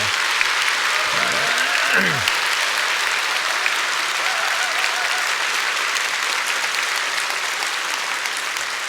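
Church congregation in Korea gives a big round of applause welcoming a guest to the front during a service, a long steady clapping crowd with a brief voice over it near the start.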